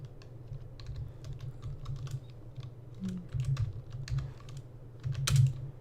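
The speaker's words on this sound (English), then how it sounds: "I'll just go ahead and manually type in these directives here." Keys clatter on a computer keyboard as C++ code is entered, close and brisk, in uneven bursts of tapping with a louder keystroke near the end.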